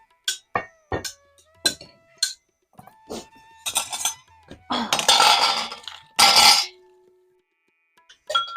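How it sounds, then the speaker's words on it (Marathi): An iron tawa griddle set on a stove to heat while cooking a traditional Konkani dish: sharp metallic clinks and clanks of cookware, then two longer scraping bursts, with short gaps of silence and no talk. "इकडे तवा तापत ठेवते मी"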